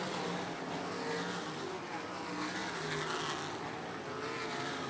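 Sprint cars race around a dirt oval, a dense, continuous engine roar from several cars at once, loud and unbroken, with no talk over it.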